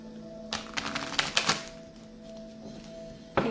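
A tarot card deck being shuffled, with a few quick riffling bursts of card noise near the start, a quieter stretch, then one last short snap near the end, all close and fairly soft.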